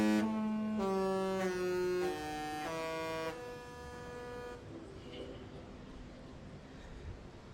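Seven deep air horns on the Disney Magic cruise ship sound a tune in sustained, overlapping blasts, then fade into quiet background murmur.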